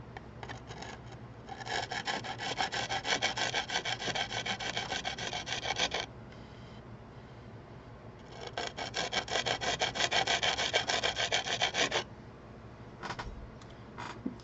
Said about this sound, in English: So let me see if I can sharpen this a little bit.